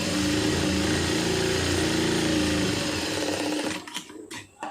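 Sewing machine stitching the lining of a blouse, a steady close whirring run for nearly four seconds before the motor slows and stops with a few brief stuttering bursts.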